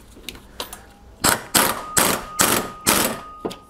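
An impact wrench fitted with a 22 mm socket on a 2002 Yamaha G22 gas golf cart, several sharp close rattling bursts in a quick, uneven series after a few lighter clicks.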